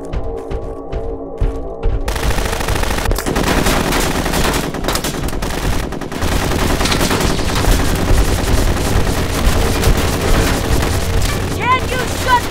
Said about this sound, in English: We are under heavy fire.